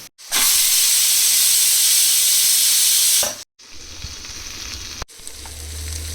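Ivy gourd pieces, tomatoes and dried red chillies fry in a kadai with a loud, steady hiss of sizzling for about three seconds, then a quieter crackle after a brief break.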